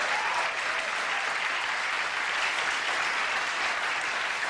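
Studio audience at a 1983 late-night talk show breaking into loud, dense, sustained applause, a continuous wash of many hands clapping with no talk over it.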